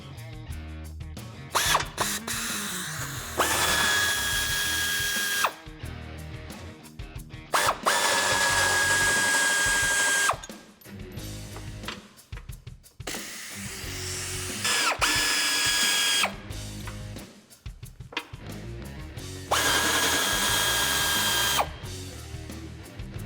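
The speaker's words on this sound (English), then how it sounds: "Now you're gonna use a 16mm socket to get both of those bolts out." Power tool with a 16mm socket removing bumper bracket bolts from a Jeep Wrangler JK frame, several loud bursts of close whirring and ratcheting separated by short pauses, with clicks and clanks between bursts.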